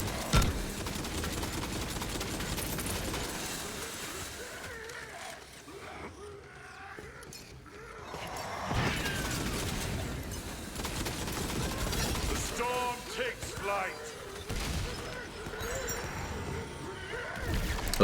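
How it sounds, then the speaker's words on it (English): The Bread Slicer saw-blade gun fires in Tiny Tina's Wonderlands, a loud, dense run of rapid shots and crashing impacts that continues over busy game noise. "this is the bread slicer"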